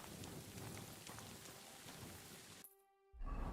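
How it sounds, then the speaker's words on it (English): Night rain in Kingdom Come Deliverance II, a steady hiss of falling drops that drops to near silence briefly, then returns louder near the end. "It's also raining."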